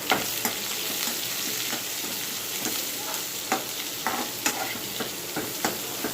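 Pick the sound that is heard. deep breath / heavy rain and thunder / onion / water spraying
onion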